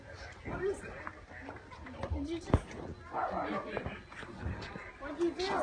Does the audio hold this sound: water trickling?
no